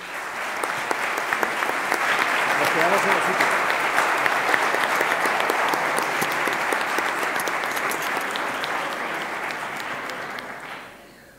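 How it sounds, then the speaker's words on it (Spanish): Audience applause for panelists at a Spanish forum event, a sustained dense clapping from a large crowd that fades out at the end, with a brief spoken line under it. "yo voy a proponer un aplauso para los panelistas"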